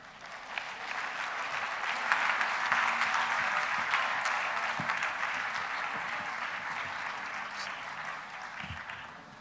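Audience at a COP27 climate conference panel applauding as panelists walk to the stage, a sustained round of clapping that swells and then slowly tapers, with faint voices underneath.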